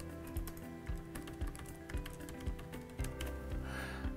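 Computer keyboard typing with steady, fairly close key clicks tapping in an uneven rhythm over a soft background bed, no voices.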